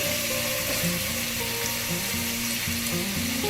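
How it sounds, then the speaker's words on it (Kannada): Ginger garlic paste sizzles and fries steadily in a pan while mutton chilli is being cooked, a dense continuous crackle with no talk over it. "ಎರಡು ಸ್ಪೂನ್ ಅಷ್ಟು ಶುಂಠಿ ಬೆಳ್ಳುಳ್ಳಿ ಪೇಸ್ಟ್ ಕೂಡ ಸ್ಮೆಲ್ ಹೋಗೋವರೆಗೂ ಫ್ರೈ ಮಾಡ್ತೀವಿ"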